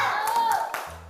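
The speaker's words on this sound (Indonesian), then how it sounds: "Tepuk semangat." A few sharp, rhythmic claps from a group doing a 'tepuk semangat' spirit clap in an Islamic school teaching session, with a voice carrying through and over them.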